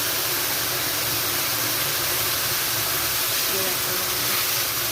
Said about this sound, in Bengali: এবার জল দিয়ে আমি মাপ করে জল অল্প করে দেবো।